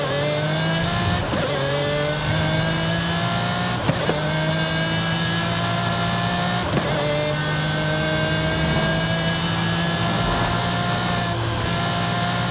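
A racing car engine in Forza Horizon 5 revs hard through repeated upshifts, rising in pitch, dropping briefly at each gear change, then climbing again. The sound is loud and continuous, with no talking.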